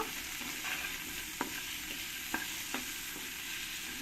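Potatoes with salt and turmeric frying in a pan, a steady low sizzle with a few sharp spoon taps against the pan, close and quiet, no talk.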